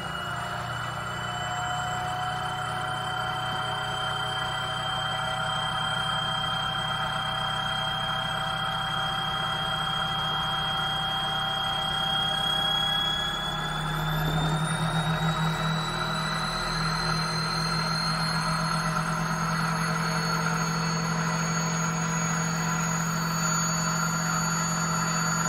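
A stepping motor runs steadily, giving a continuous tonal whine over a low hum, with the pitch rising partway through as it speeds up. No one speaks.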